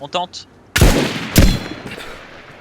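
Gunfire in the video game DayZ aimed at a truck: two loud, sharp shots about half a second apart with ringing tails, following a short burst of voice.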